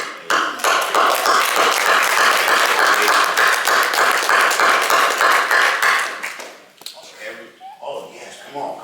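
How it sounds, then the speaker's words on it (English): Audience claps loudly and steadily for about six seconds, a dense patter of many hands, then the applause fades and a voice starts talking. "come on, clap it up"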